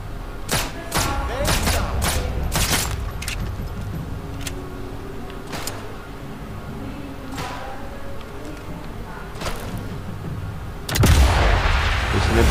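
Gunfire in the video game Sniper Elite 5 comes as a rapid cluster of sharp shots and thuds, then scattered single reports over a steady ambient hum, ending in a loud explosive rumble.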